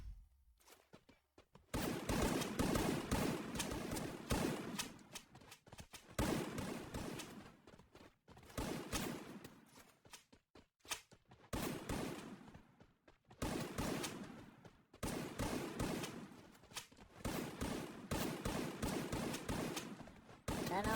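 Bursts of rapid video game gunfire crackle in repeated volleys separated by short pauses, sharp and loud throughout.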